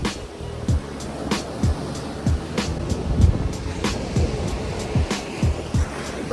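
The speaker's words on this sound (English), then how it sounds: "This is my favorite beach here." Ocean waves roll steadily onto a beach in Puerto Rico in a broad, continuous wash, with thuds recurring through it.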